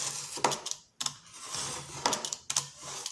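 Utility knife blade drawn through corrugated cardboard, giving short scraping cuts repeated three or four times in an uneven rhythm, close and fairly quiet, with no talking.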